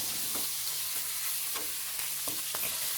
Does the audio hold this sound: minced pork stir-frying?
yes